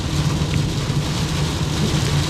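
Steady rain and road noise inside a car driving westbound on Florida Highway 50 from Ocoee toward Clermont, a dense continuous wash with a low engine hum, no talking.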